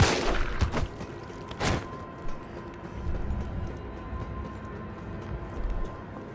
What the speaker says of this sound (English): Oh, I hear gunshots in the distance.